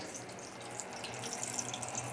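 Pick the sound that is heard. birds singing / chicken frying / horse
chicken frying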